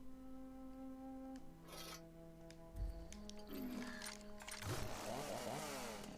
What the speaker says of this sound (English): You got a fucking chainsaw hammer.